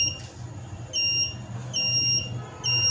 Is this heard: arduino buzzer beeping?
yes